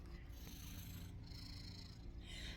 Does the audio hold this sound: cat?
yes